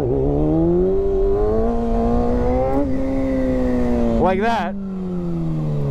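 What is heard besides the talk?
Kawasaki Ninja ZX6R motorcycle revving during wheelie attempts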